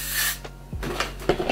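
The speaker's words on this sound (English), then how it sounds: "This is a cold spray." A cold spray hisses onto a wig in a few short, close bursts, with soft handling rustles in between.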